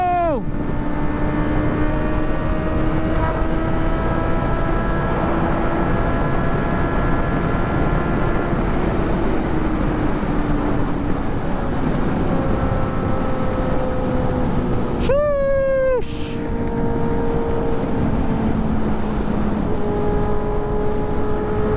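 A motorcycle fitted with a Villain R9 exhaust roars past on the road in a loud, steady drone that holds for many seconds, then drops sharply in pitch as it passes close by.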